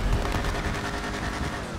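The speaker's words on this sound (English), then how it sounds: "Fireworks to celebrate my making it up back to here." Fireworks going off in Grand Theft Auto V, a dense continuous crackle of bursts and pops filling the whole stretch at steady, fairly loud level, with no voices over it.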